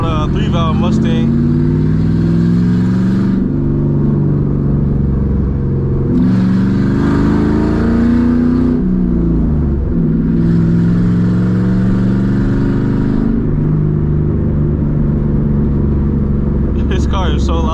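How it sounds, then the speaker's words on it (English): Straight-piped 2007 Mustang GT with a 3-valve engine, loud from inside the car as it accelerates through several gears, with rising revs, shifts and a deep exhaust note rumbling throughout. "My loud 3-valve Mustang."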